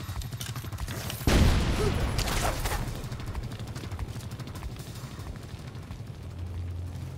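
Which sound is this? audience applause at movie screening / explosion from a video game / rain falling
explosion from a video game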